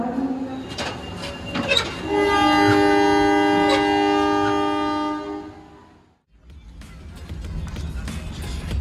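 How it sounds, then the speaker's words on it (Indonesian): A Kertajaya train departing from track 2 at Bojonegoro station blares its horn in a long sustained chord close by, over rumbling rail noise, then the horn cuts off and the train's running noise carries on. "Jadi kereta apinya persiapan langsung berangkat dari jalur 2 stasiun Bojonegoro."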